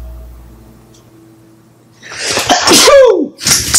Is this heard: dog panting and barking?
no